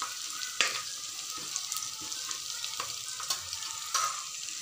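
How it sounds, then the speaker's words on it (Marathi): Cashews frying in oil in a pan for veg pulao, a steady close sizzle with a few sharp stirring scrapes and clicks, no voices. "हे जे काजू होते ते देखील मी तेलावरती थोडेसे फ्राय करून घेते"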